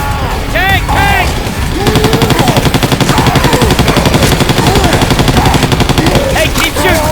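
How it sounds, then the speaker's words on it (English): Rapid automatic gunfire rattles almost without pause as survivors fire on a Tank in the game Left 4 Dead 2, loud and close, with voices shouting over the shooting and in-game music in the background. "Hey, keep shooting! Keep shooting!"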